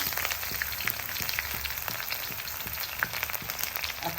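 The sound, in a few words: onion frying in oil with cumin, chilli, bay leaf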